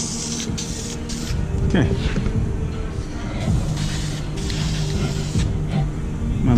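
Spray painting a gooseneck trailer, a steady hissing spray running over engine-like background noise with brief pauses, while someone talks nearby.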